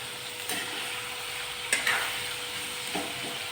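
Ivy gourd and karonda fry in a pan, a soft steady sizzle broken by a few scraping stirs, close and fairly quiet.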